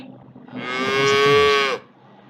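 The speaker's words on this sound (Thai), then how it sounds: "ก็คือวัวนั่นเองค่ะ" A cow gives a single long, loud moo up close, swelling and holding for about a second before cutting off, alone with no speech over it.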